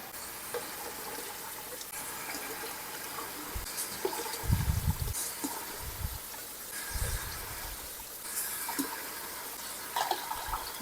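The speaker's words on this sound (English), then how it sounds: "I am going to pour more water in. Hot water." Hot water splashes and gurgles into a canning pot holding jars in a home kitchen, coming in a few short pours over a quiet background.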